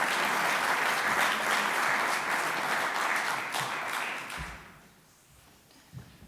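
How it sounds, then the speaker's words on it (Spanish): An audience at a lecture applauds steadily and loudly for several seconds, then the clapping fades out into a quiet room. "Fuerte aplauso."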